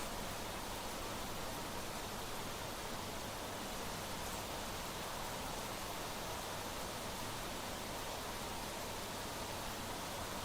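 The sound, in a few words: rain in the video game Planet Crafter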